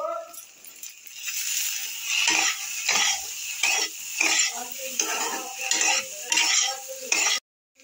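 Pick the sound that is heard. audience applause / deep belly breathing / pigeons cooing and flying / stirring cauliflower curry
stirring cauliflower curry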